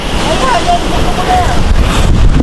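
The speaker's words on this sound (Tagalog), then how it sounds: "Hanggat malakas ang hangin." Steady, roaring wind buffets the microphone throughout on a dangerous rocky trail down to a river, a dense low rumble with faint voices underneath.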